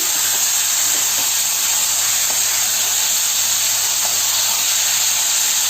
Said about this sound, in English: Now again you have to fry it properly with the masalas and onion.